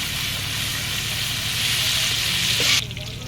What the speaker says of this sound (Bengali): তেলটা একটু গরম করে মাংস ঢেলে দিলাম কিছুক্ষণ নেড়ে নেড়ে ছেড়ে ভেজে নেবো